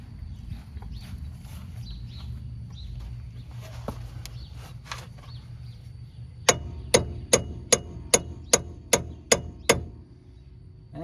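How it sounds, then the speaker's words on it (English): A hammer strikes a seized front shock bolt on a 1993-2010 Ford Ranger 2WD. About nine sharp metallic blows ring out in a quick, even rhythm after a stretch of quiet shop noise. "See if I can hit that with a hammer and break that free."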